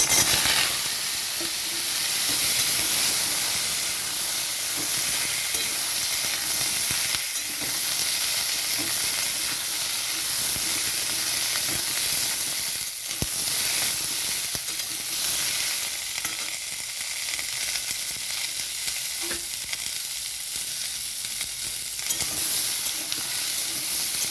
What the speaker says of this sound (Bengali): তো এখানে আমার আমড়াটা একটু ভাজা হয়ে গেছে।